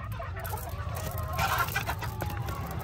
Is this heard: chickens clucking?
yes